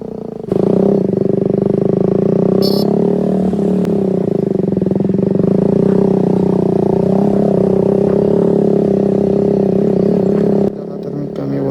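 A KTM RC motorcycle with an Akrapovič exhaust being ridden gives a loud, steady engine drone that holds an even pitch for most of the clip before easing off near the end.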